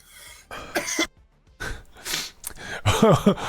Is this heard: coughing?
yes